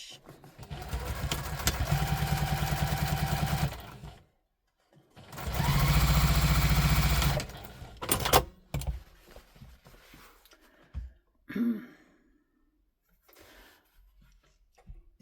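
Sewing machine topstitching a folded edge on a tote bag, running in two steady bursts of about four and three seconds, followed by quieter handling noises and brief rustles.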